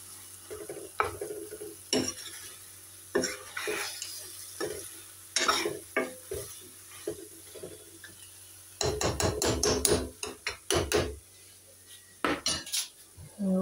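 Chopped tomatoes go into a pan and are stirred, with repeated close scraping and clinking of a utensil against metal over a faint sizzle, in irregular bursts.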